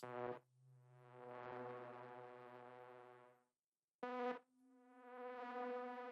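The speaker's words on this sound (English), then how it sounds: "And it's just this like synth preset right here, and it just sounds like this." Anamorph synth preset "Back in Force" played dry in Kontakt: a sustained, buzzy harmonic tone with a low drone beneath it holds for about three seconds, then after a short silence a second held note sounds.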